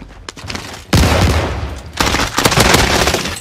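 Shotgun blasts in a video game, a double barrel among them, loud close bursts that hit hard at about one and two seconds and roll into dense, overlapping fire through the rest.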